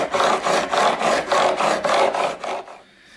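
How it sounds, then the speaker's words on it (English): A file rasps along the edge of a guitar fretboard on an Epiphone Firebird refurb, making steady back-and-forth strokes in an even rhythm of about ten passes, close and loud, before stopping. "carefully working along the whole of the edge of the fretboard"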